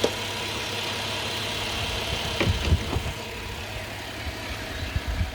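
A 2007 Subaru Legacy engine idles smoothly and evenly, a low steady running hum with a few faint knocks and thumps nearby, no talking.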